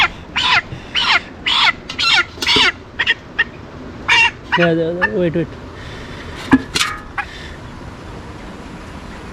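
Young broiler chickens, about 25 days old, squawk in a run of loud, close, panicky bursts as they are caught in a poultry shed, with a person speaking briefly between the cries.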